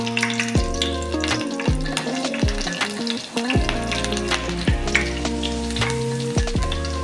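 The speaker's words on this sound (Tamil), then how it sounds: "அது கூடவே எல்லா மிளகாயும் ஆட் பண்ணி ஃப்ரை பண்ணி வச்சுக்கலாம்." Green chilies and curry leaves fry in hot oil for a garlic gravy, giving a steady crackling sizzle, with a low, repeating pitched drone beneath it and a few sharp clicks throughout.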